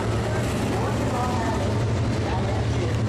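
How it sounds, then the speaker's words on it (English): Race cars circling the track at Skagit Speedway during a caution, giving a steady, continuous low engine drone throughout, with a loudspeaker announcer talking over it. "And the cars are warming up."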